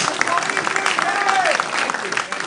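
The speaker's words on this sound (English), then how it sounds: "Give yourselves a big round of applause." Sustained crowd applause at a wrestling show, with dense clapping and some cheering, loud and continuous throughout.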